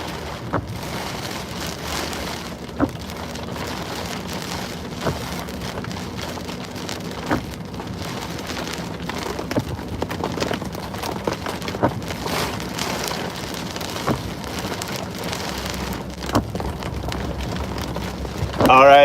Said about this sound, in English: It's starting to get a little gusty.